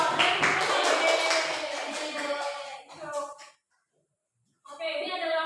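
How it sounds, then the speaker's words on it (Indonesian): Classroom applause for a student group during a biology lesson, a dense burst of many hands clapping that tapers off after about three seconds, followed by a short silence and then a return of room noise. "tepuk tangan untuk kelompok Desi dan kawan-kawan."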